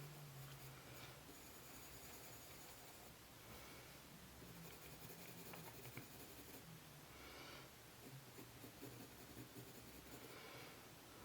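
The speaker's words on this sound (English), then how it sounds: "So nice circular motion so that we're getting all of the tooth of the paper, not too hard." Colour pencil shades a tiger's nose on textured paper in steady circular strokes, a soft continuous scratchy rasp that stays faint and close throughout, with slight shifts in pressure and no voices.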